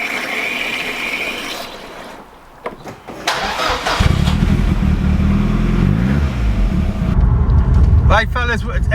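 A Ford Escort RS Cosworth engine cranks and catches, settling into a loud idle close by, with a voice talking over it.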